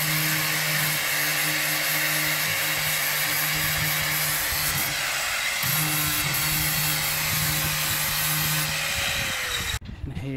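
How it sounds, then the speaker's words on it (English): A loud, steady grinding whir of a linisher (belt sander) running continuously against rusty metal, with a brief change in pitch near the end as it stops. "I'm about to get the older linisher out. Cover some of the rusty areas."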